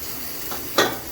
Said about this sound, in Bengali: চেপে চেপে মাছ ভাজা হচ্ছে